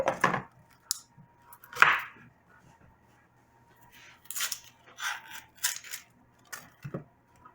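A knife cuts through a peeled onion on a board in a series of sharp, crisp chops and slices, some spaced apart and others quick together, close up in a quiet kitchen.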